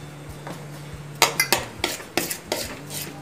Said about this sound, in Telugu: ఇలా బాగా మిక్స్ చేసుకోవాలి.